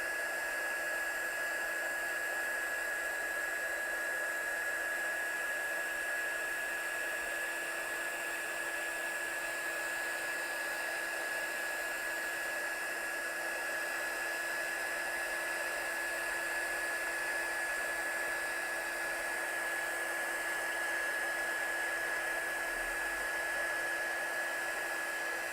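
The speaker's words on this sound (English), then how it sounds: "I'm going to heat set this. And I've got my gun hot." A heat gun blows steadily on embossing powder over red cardstock, giving a continuous even whir with a faint high whine that stays constant throughout and has no talk over it.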